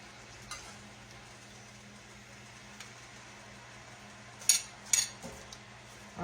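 Collard greens stir-fry and cook down in a pan with a low, steady sizzle, nearly constant and fairly quiet, broken near the end by a couple of sharp utensil clatters.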